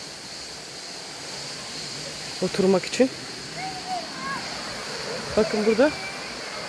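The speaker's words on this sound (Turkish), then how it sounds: "şelale suyu akıyor" Water flows at Turgut Waterfall near Turgut village in Marmaris, a constant soft rushing wash in the background while someone speaks a few short phrases over it.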